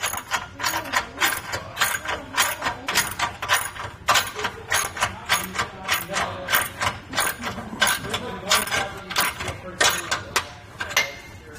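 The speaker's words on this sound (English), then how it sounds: "I'll come back with my ratchet and socket and tighten it down" A ratchet and socket tighten the hitch bolt on a 22x60 Flint Hill Goods cargo carrier in a 2-inch hitch. Quick repeated clicking comes in steady bursts, close and clear, throughout.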